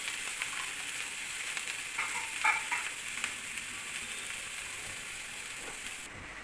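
Ponaganti greens frying in a pan while being stirred, with a steady soft sizzle throughout and a few scraping stirs clustered in the middle, fairly close and at low-moderate level.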